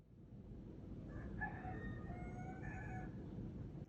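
A rooster crows once at a distance, a faint drawn-out call over a steady low hum and background noise.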